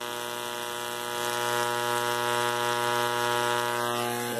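Steve Ward mini solid state Tesla coil running at low power, a steady buzzing hum with strong harmonics, close and even, swelling slightly partway through, alone without talk.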